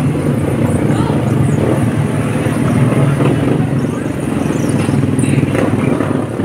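A motorcycle engine runs through flood water on a flooded street in Baseco, droning loud and steady with a rough, clattering edge while people talk over it.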